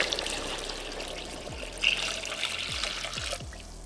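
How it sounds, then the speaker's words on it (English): Tap water runs steadily into a cooking pot already holding vegetables, aromatics and herbs, a soft continuous trickle and splash with a few low knocks near the end. "Now we're gonna fill the pot up with water."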